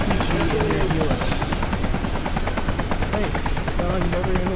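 Helicopter in the video game Arma 2 Wasteland, a loud continuous rotor chop with rapid rhythmic thumping and engine whine, close by, with voices talking over it.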